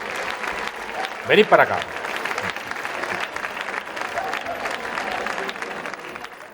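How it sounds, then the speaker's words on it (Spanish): A crowd at a San Mateo festival presentation applauds loudly as three children are welcomed onto the stage. The clapping is dense and steady throughout, with a person speaking over it partway through. "les recibimos con un fortísimo aplauso a los tres"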